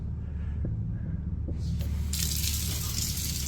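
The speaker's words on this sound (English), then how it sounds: "Okay, that's enough water, please." Water runs from a kitchen tap, a steady broadband gushing hiss that starts partway through and continues over a low background hum.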